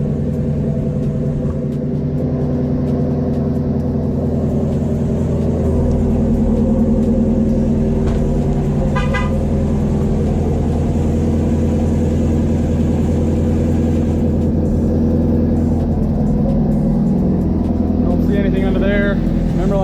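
A Ford Mustang GT350 engine, freshly fitted with oil balancing lines, runs at a steady, loud idle with a deep rumble throughout, some brief clicking in the middle, and someone speaking over it.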